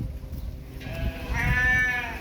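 Sheep bleating in a pen on a Thai farm, a wavering bleat rising clearly over a low background rumble and fading out, with no voices.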